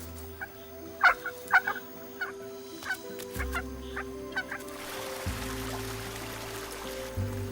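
Young birds of an ancient species cry for food: repeated short, high-pitched calls and peeps at moderate distance, with low rumbling background noise and no talking.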